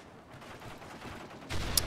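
Gunfire in the video game Modern Warfare 3 rings out at a distance, faint scattered shots under an ambient hum before a louder burst near the end.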